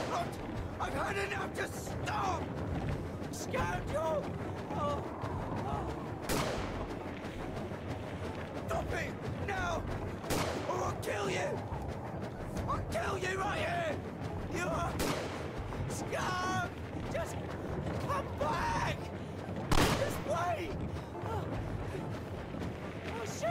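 Gunfire in the video game Indika, scattered sharp shots punctuating a dense, steady bed of game sound and background noise, with occasional voices mixed in.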